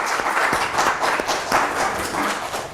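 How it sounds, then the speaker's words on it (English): Audience applause at the close of a panel discussion on the economy, a dense, steady wash of many hands clapping together for several seconds, moderately loud and without talk. "with a round of applause"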